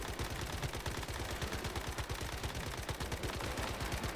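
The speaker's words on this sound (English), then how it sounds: "I gun down the claw boss in short order" Rapid, sustained automatic gunfire in the game Once Human, a dense continuous burst of shots at a steady fast rhythm, loud and close with no pauses, as the claw boss is gunned down.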